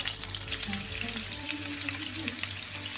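Meatballs frying in a pan for Italian wedding soup, giving a dense, steady crackling sizzle with faint stirring scrapes, close and continuous with no voices.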